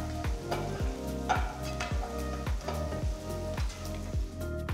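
Steady, close sizzling and frying of onions and garlic in a hot pan, with regular scraping strokes of a spatula stirring every second or so.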